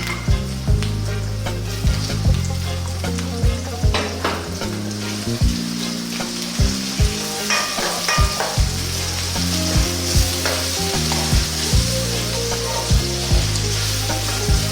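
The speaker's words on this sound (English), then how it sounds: "we're going to add in 1 tablespoon of chopped garlic and ginger and 1 cup of fresh tomatoes," Chopped garlic, ginger and fresh tomatoes sizzle loudly in a frying pan over medium-high heat, with a dense constant crackle and repeated scraping knocks of a utensil stirring throughout.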